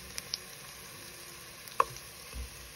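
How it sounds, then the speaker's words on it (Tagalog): Garlic and onion sautéing in a pan make a quiet, steady sizzle with a few light clicks and a sharper tap of utensils, close and without talk. "Nanggigisa na po tayo. Lagay po natin yung bawang,"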